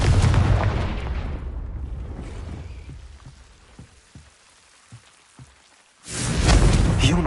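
A Confringo blast spell in Hogwarts Legacy: a loud, rushing fiery burst that fades into quiet scattered pops, then a second roaring blast erupts near the end.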